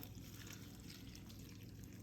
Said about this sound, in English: What I do, I go ahead and pour some boiling water over them.